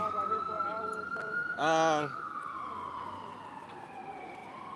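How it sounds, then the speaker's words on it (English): A siren wails past a courthouse with a rising, falling pitch sweep, fairly loud and close, over steady street traffic noise; a brief spoken hesitation is heard. "Let those sirens go by."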